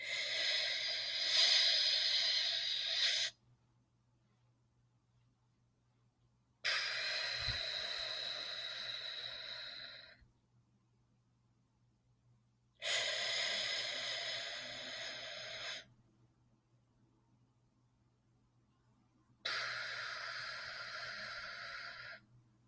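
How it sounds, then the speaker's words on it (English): A person does 4-second square breathing, with four long, slow breaths in a steady cycle. Each airy, hissing inhale or exhale lasts a few seconds and is followed by a silent hold of about the same length, heard close and quiet. "4-second square breathing would look something like this"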